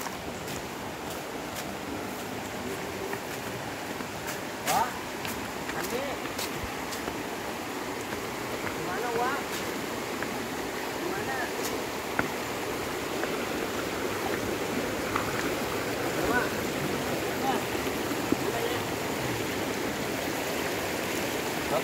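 River water flowing steadily at a bathing spot in Kampung Loa, Sawarna, a continuous close rushing wash that runs unbroken from start to finish with no talk over it.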